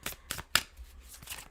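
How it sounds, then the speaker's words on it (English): A tarot card deck is shuffled up close, giving a few quick, crisp riffling bursts with short pauses between, quiet and without speech. "And as I shuffle, just focus on the things from this past week that you want to reflect on."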